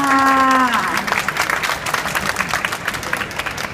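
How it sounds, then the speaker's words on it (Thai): At a Thailand toy expo, a crowd of cartoon fans claps for a guest, starting just after a sustained tonal sound fades and continuing as a dense, even patter of many hands at moderate volume. "ขอเสียงปรบมือด้วยค่ะ"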